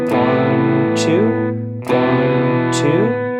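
Electric guitar strums chords as sustained half notes, each chord ringing with a heavy effects-laden, slightly distorted tone, restruck at a steady pulse in a lesson on a song.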